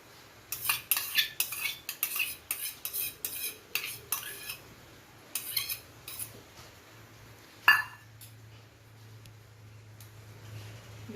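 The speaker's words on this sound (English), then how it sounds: "We can just slightly mix it." A spoon whisks one cup of yogurt in a bowl for an eggless chocolate cake batter, producing quick rhythmic clinking and scraping strokes in bursts, then a sharper knock and quiet.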